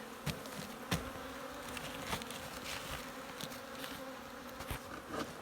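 Honeybees buzz around a hive of about fifty bees during spring hive care, a soft, steady drone with a few brief louder ticks and knocks, no voices.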